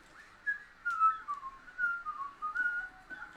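A person whistles a wandering, bird-like tune in short phrases, fairly close and clear against a quiet background, with no talking over it.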